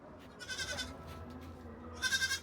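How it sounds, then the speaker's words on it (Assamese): Two goats shut inside an enclosure bleat quietly, a short burst near the start and another near the end, over low background noise with no talking. "দুটা ছাগলী সোমাই আছে হা"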